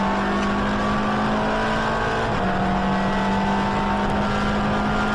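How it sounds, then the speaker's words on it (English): A touring race car at speed on the Donington circuit, its engine droning steadily and loud from onboard with a sustained tonal whine and a brief pitch shift midway. "Now the car's heading down towards the chicane for the first time."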